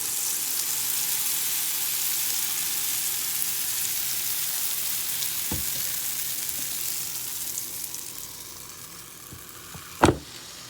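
Waffle mix fries in hot grapeseed oil with a loud, steady broadband sizzle throughout, plus a couple of sharp clicks or scrapes near the end as it fades slightly; no talking.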